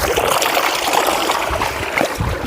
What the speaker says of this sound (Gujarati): વાડીએ પાણી સારું આવે તાજું કૂવામાંથી